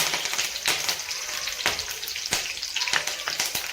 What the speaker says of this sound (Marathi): त्यामध्ये आपल्याला थोडासा कढीपत्ता पण टाकून घ्यायचा आहे